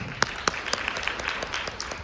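An audience at a business leaders' forum gives brief applause to welcome a speaker, with scattered distinct claps standing out over a softer background.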